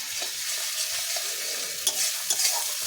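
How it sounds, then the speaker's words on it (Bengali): Spice paste fries in a pan, a steady close hiss of sizzling oil with soft scraping as it is stirred and a couple of sharper spatters near the end. "খুব সুন্দরভাবে"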